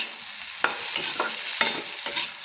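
Turkey berries and chickpeas are stirred while frying in oil, giving four distinct scraping strokes over a soft, steady sizzle, close and fairly quiet.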